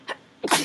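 One person sneezes nearby in a quick two-part burst, a short intake followed by a sharp loud release.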